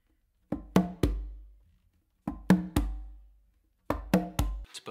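Hand strokes on congas play an up-and-down beat independence pattern with close slaps, three short phrases of sharp slaps and resonant tones, close and clear, separated by brief pauses with no talk.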